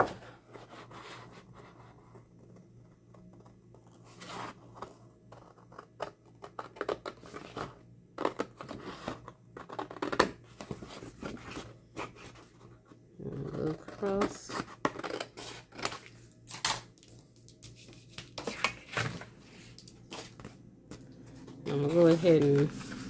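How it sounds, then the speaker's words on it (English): Scissors snipping around paper while making an accordion envelope pocket, a run of quick close cuts and rustles spread across the stretch, with a person talking in between. "I want to cut around here."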